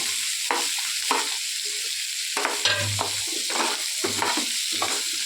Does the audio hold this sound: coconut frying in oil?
yes